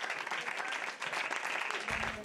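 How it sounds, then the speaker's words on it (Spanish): Audience applause at a film premiere screening in Madrid, a dense steady wash of clapping from a crowd that holds throughout, with a brief lower rumble near the end. "Son los primeros aplausos para el Último Show"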